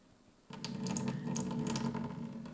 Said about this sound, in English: I'm going to pour the liquid out carefully.